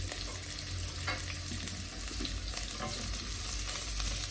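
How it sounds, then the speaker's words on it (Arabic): Onions and peppers frying with shawarma meat in a pan, stirred steadily; a continuous close sizzle with occasional scraping stir strokes, no talking. "هحطهم بقى معاهم واقلبهم لحد ما يتبلوا كلهم سوا"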